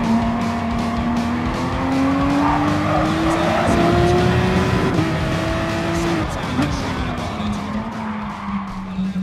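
Race cars in the GT Sport video game roar continuously at high revs, with engine pitch climbing and dropping through gear changes and bursts of tire squeal and skidding, loud and dense throughout.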